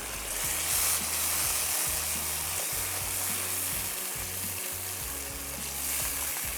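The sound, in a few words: masala frying in a pan after adding yogurt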